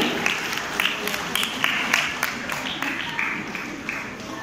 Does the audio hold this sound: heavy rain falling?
no